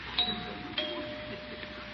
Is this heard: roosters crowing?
no